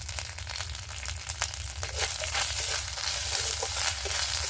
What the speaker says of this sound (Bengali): আদা জিরেটা একটু ভেজে নেব।